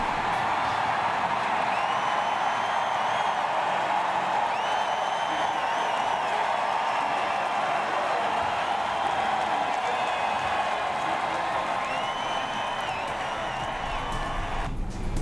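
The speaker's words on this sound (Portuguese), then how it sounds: "Aplausos para o Matt Kenseth, uma certa vaia ali para o Joey Logano." Large NASCAR grandstand crowd cheering and applauding for one driver, with a mix of booing for another, a dense continuous roar that holds steady for about fifteen seconds before cutting off.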